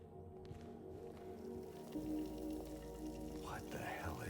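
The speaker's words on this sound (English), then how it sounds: "What the hell is that? Rain." Steady rain falls in the Silent Hill 2 Remake, a soft continuous patter with low rumbling underneath, moderately quiet and unbroken, with a faint tonal sound rising near the end.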